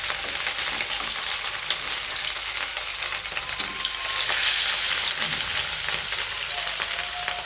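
Fish sizzling and spitting in hot oil in a wok, a steady close frying hiss that swells louder partway through as it is stirred.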